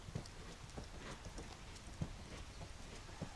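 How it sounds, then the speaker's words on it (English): Hoofbeats of a horse in a collected canter with shortened strides, heard as soft, muffled thuds at spaced intervals against a steady background hiss. "The horse now is showing a collected canter."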